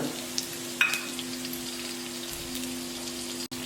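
Green chilli with ginger and garlic sautés in a pan, making a faint, soft sizzle beneath a low steady hum, broken by a couple of brief clinks.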